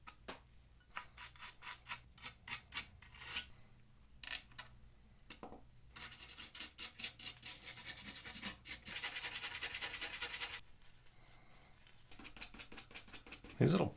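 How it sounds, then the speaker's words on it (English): A brush scrubs over a dirty, bug-infested PS4 Slim console in repeated short scratchy strokes, then a longer steady rubbing stretch, close and fairly quiet, with no talk. "I'm kind of going over all of it with this brush"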